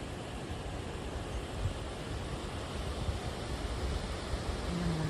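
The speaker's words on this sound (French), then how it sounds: "On a une très jolie cascade." Rushing water from a mountain waterfall cascading after a storm, a steady broadband roar filling the whole clip without pause, loud and close.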